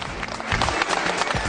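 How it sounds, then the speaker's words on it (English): Short burst of people clapping together inside a bowling alley, dense and close, with a few scattered sharp claps. "others clap to congratulate a good strike"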